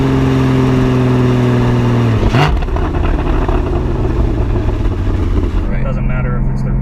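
Porsche Cayman GT4 engine held at steady revs, then a quick blip and drop as it rev-matches through a shift, loud and close, the droning engine continuing through the clip.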